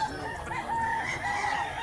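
A large rooster crows on a farm in Mantalungon, Barili, Cebu, one long sustained call holding steady for nearly two seconds at close range, with no voices over it.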